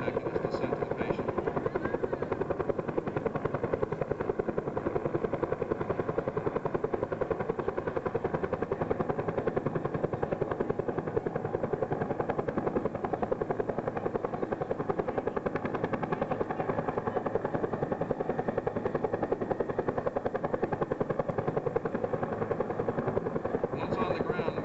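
A rescue helicopter hovers during a medical evacuation demonstration at the 1993 NAWS China Lake airshow, its rotor thumping steadily and continuously at moderate distance for the whole stretch, while a voice talks faintly underneath.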